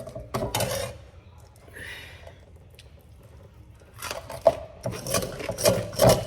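A spoon scrapes the crispy golden rice crust off the bottom of a pot of rice and beans. Rough rasping bursts come near at the start and again toward the end, with quieter scraping between them and no talk.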